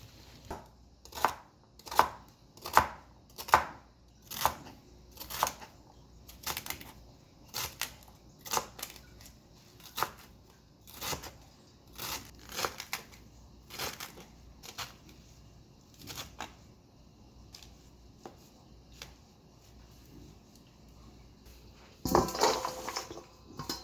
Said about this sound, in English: I'm going to start cutting my callaloo.